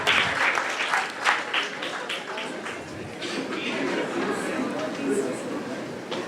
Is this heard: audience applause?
yes